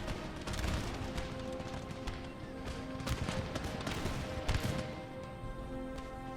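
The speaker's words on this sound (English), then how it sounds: "There's going to be so much smoke from all the gunfire going off everywhere." Scattered musket shots crack and pop in irregular bursts over a constant background drone in the video game Empire: Total War, some overlapping into ragged volleys, moderately distant.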